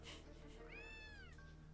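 A cat meows in the Gravity Rush video game, giving one clear, drawn-out rising and falling meow that is faint and heard over a steady background hum.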